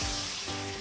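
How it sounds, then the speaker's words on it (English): Blended paste dropped into hot oil sizzles with a steady, hissing crackle, loud and close, keeping a fairly even level throughout the short burst. "The oil is hot, so it's going to sizzle."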